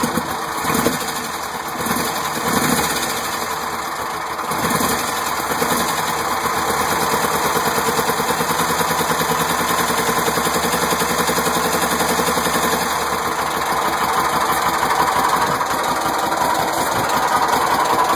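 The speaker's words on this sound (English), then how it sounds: "my 69 Volkswagen Squareback. I'm about to do a little start and hear it run for a minute." A 1969 Volkswagen Squareback engine cranks and catches, then settles into a steady, close, loud idle with a slightly uneven mechanical beat that carries on alone.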